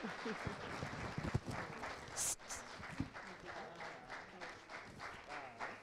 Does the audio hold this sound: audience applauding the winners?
yes